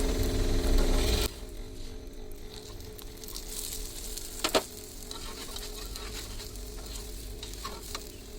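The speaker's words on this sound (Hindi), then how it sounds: "और यहाँ पे ये देखिए लच्छा वाला पराठा मैं बनाने लगी हूँ।" Lachha paratha frying on a pan with a little ghee, a steady close sizzle throughout, louder at the start, with a few brief clinks of a utensil midway and no talk.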